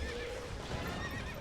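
A horse in the video game Hyrule Warriors neighs loudly in a long, wavering whinny, with faint hoof clatter beneath it and no talk.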